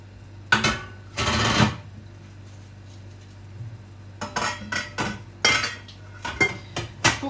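Metal and ceramic kitchenware clattering in a kitchen as a bowl is set onto a metal steamer sieve for a bain-marie of butter: two loud clanks early, a quiet pause, then a run of sharp clinks and knocks.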